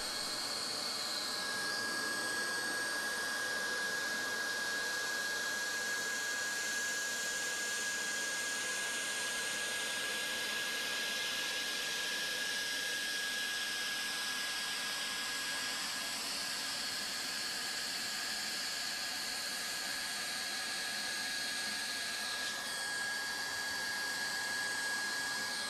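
A hot air welding gun blows a steady, unbroken hiss with a thin high whine, melting welding rod into a V-cut groove at a mitre in safety flooring, close and constant throughout with no talk.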